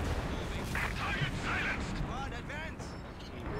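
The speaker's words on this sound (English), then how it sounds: "artillery strike basically" Artillery barrage in the World War II strategy game Company of Heroes 2, a dense, continuous roar of booms and rumbling impacts filling the whole moment, with a voice talking over it.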